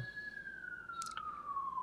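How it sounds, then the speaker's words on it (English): A single siren wails from a distance, its steady tone sliding slowly downward across the whole stretch over a quiet background with a brief faint clatter midway. "we never get sirens down here"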